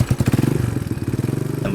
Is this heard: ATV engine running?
yes